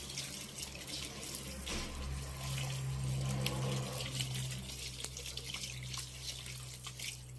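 Water runs steadily from a tap into a dough mixture for padırık, a traditional regional dish, a continuous splashing flow with faint drips and no talking.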